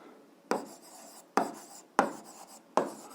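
Pen writing on paper during an algebra lesson, four short scratchy strokes spaced about half a second to a second apart, quiet and close, with no talking.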